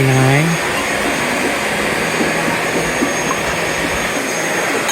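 A vacuum cleaner in a thrift store drones steadily and loudly from start to finish, a constant whirring hum that never changes pitch.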